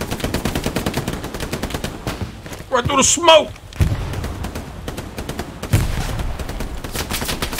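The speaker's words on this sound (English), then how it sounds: "Lots of gunfire at me." Video game gunfire rattles in rapid bursts, dense and continuous, with a voice shouting over the shooting partway through.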